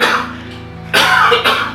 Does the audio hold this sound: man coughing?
yes